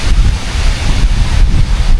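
Strong wind buffets the microphone in loud, continuous low roaring gusts during a heavy rainstorm on a fishing trip.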